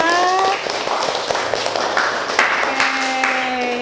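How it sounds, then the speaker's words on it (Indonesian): Classroom applause for a student discussion group, a brief patter of clapping mixed with voices and tonal background sound, moderately loud throughout. "Tepuk tangan yang terakhir untuk kelompok 5."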